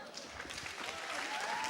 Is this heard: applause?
yes